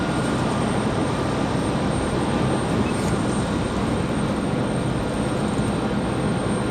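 A Delta jet departing for Minneapolis from Raleigh-Durham International roars steadily at a distance with a broad, rumbling engine noise that neither swells nor fades much across the stretch, and no voices are heard.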